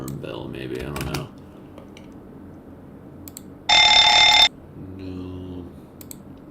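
An alarm bell sound effect in Roblox Studio rings out as one loud, bright burst of just under a second. It follows someone talking and some keyboard typing, and a quieter tone follows it.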